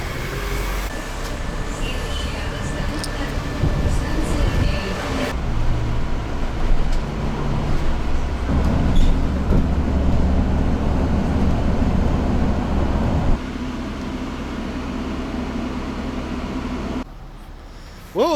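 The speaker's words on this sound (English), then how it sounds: "I now need to jump on a bus. It's going to be a 20-minute ride" Bus ride through Moscow, heard from inside as a continuous low engine drone and road rumble that shifts in pitch and loudness as the bus moves, with no talk.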